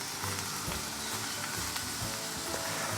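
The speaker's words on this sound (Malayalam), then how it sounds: "ഇതൊന്ന് ഇളക്കിയിട്ട് ഒരു 2 മിനിറ്റ് ഇതൊന്ന് വേവട്ടെ കേട്ടോ" Taro stems stir-frying in a pan, giving a steady close sizzle throughout with occasional soft scraping knocks from stirring, and no talking.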